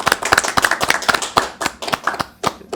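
A small audience welcomes a podcast guest with clapping, a few pairs of hands giving sharp, fairly close claps in an uneven rhythm that tapers off after a couple of seconds.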